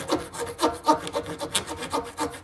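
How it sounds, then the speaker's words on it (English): Hacksaw blade lightly floated over paper on a 1:12 scale model shed, a quiet run of quick, even rasping strokes, close up and alone. "Hacksaw. Just float the blade."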